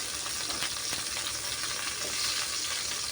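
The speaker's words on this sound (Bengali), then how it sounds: "পানি শুকিয়ে গেলে এর ভিতরে আমি তেল দিয়ে দেব, পরিমাণ মতো তেল দেব। তারপর চিংড়ি মাছগুলো দিব।" Shrimp sizzling and frying in hot oil in a wok, a steady dense crackle with faint stirring, close and continuous with no talk.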